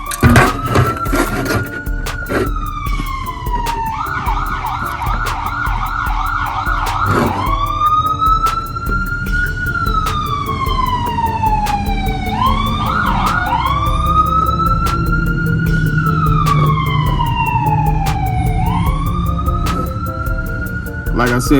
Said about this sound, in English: sorry about that police noise